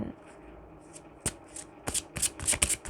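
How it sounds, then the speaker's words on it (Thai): Romance Angel oracle cards are shuffled up close, giving quick papery riffles and flicks that grow busier toward the end, with a faint voice underneath. "ทีนี้เรามาดูไพ่โรแมนต์แองเจิลกันบ้างนะคะ"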